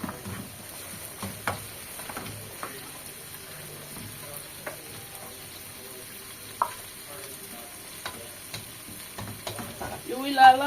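Nigerian yam porridge (asaro) bubbles and sizzles in a pot, with scattered clicks and light stirring knocks over a steady low hiss.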